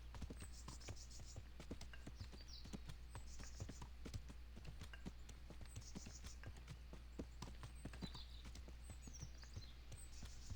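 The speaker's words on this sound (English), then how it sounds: "Let the horse pick its way down." A horse's hooves clip-clop at a slow, irregular walk as it picks its way downhill in the video game Kingdom Come: Deliverance, steady and close over a low ambient hum, with faint bird calls at times.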